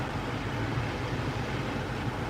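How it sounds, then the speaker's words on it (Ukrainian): Cabin ventilation fan of a 2015 Ford Focus 1.5 TDCi automatic blowing at full speed with the air conditioning on, a steady, even rush of airflow with no breaks. "вентилятор на максимум."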